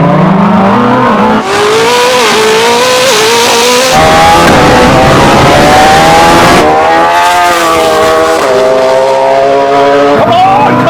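A Koenigsegg Jesko hypercar and a tuned Hayabusa motorcycle accelerate hard side by side in a drag race, loud engines revving and climbing through gear changes with a sustained, near roar and brief pauses between shifts; excited voices talk over it.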